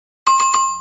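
A notification bell sound effect: three quick bright dings in succession, ringing clearly and ringing out at the end, with no voices.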